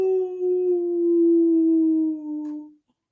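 A single long, steady howl from a human voice imitating a wolf, loud and close, holding one pitch with slight droop before fading out.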